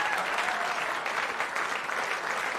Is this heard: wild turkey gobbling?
no